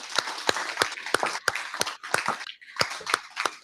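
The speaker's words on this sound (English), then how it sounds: "I'd like to give applause." Crowd applause at a political event honoring a World War II veteran, sharp irregular claps ringing out loud and close with a brief lull near the middle.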